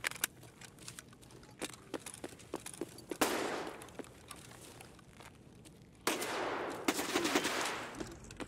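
Sharp gunshots from a hardcore shooter video game, a scattered series of single cracks and short bursts at varied distances, with louder rumbling stretches of sustained fire between them.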